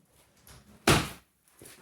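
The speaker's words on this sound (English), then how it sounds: "that was the drawer in every house" A kitchen drawer slides and shuts with one sharp thunk, followed by softer faint rattling and shuffling nearby.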